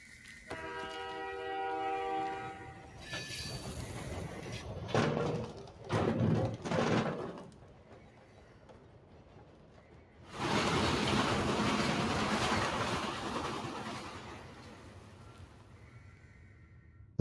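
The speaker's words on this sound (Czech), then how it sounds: "historické vlaky jezdí i v Resident Evilu" Train in the video game Resident Evil: a horn-like tone at the start, then bursts of loud rumbling passing noise, a pause, and a long rolling rush that fades away.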